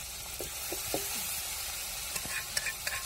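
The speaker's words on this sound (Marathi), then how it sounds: "आता मिरची टाकू राहिली त्याच्यामध्ये" Green chilies dropped into hot oil with cumin seeds, sizzling steadily at close range with a few soft clicks and stirring scrapes; no one speaks.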